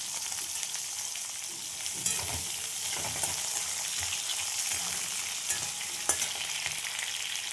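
Cumin, whole garam masala, capsicum and onion frying in a pan for an egg dish, a continuous close sizzle with occasional spatula knocks and stirs, no talking.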